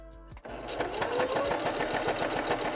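A sewing machine runs steadily, its needle stitching fabric in a fast, even mechanical rhythm after a brief pause at the start, close and clear with no talk over it.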